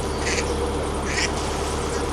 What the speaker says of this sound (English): Duck on my roof.